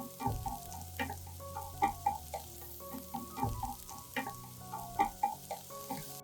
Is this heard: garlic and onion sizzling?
yes